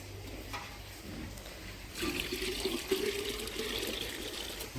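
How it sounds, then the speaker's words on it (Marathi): Water is drawn and poured into containers at an outdoor village well: faint sloshing and splashing that grows busier partway through, fairly quiet and with no talking. "बघा झालं आमचं पाणी भरणं"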